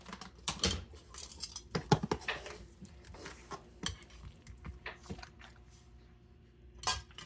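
Utensil clanks and scrapes against a bowl while food is being mashed, irregular close taps and thuds with a few sharp knocks, no talking.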